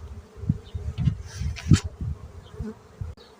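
Honey bees buzz around an open hive during a spring inspection. Many wings drone close by in a wavering, pulsing hum that swells and fades as individual bees pass near, with no one speaking.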